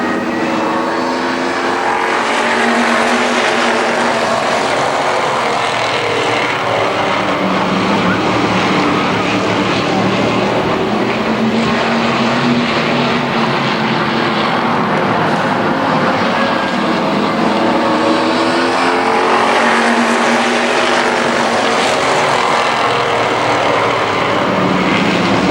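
Race cars roar continuously at Columbus Motor Speedway during a Superstar Shootout feature, a loud, dense engine drone from several cars battling side by side, with an announcer talking over it.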